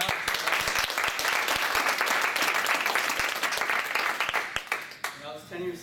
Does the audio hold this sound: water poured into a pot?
no